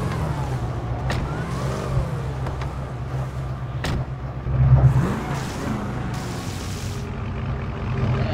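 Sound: video game Dodge Charger widebody engine starting and revving

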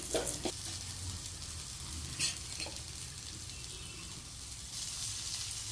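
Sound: bitter gourd frying and being turned in a pan

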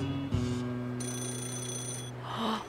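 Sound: payphone ringing in the video game Yakuza 0

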